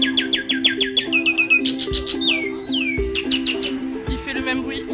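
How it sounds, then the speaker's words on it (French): Bird calling loudly at night in Chiang Mai, Thailand: rapid repeated shrill chirps and whistled phrases in quick bursts, close and clear over a steady tonal hum in the background. "C'est l'oiseau qui nous empêche de dormir toute la nuit."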